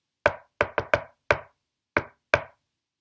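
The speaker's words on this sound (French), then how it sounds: "on entendit frapper à la porte" Knocking on a door, seven sharp close raps in an uneven pattern: a single knock, a quick triple, another single, then two spaced knocks.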